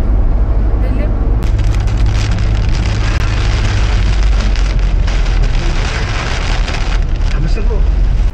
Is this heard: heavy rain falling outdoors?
yes